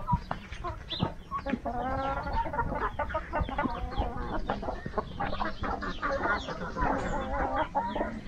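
Hens cluck steadily at a sheepfold where dogs and chickens feed side by side, with repeated close cackling calls and farm bustle throughout.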